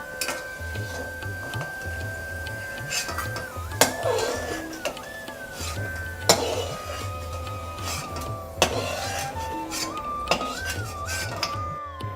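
Fried potatoes lifted out of hot oil into a vessel, with sharp metal utensil clinks every few seconds and soft scraping between them, over steady background music.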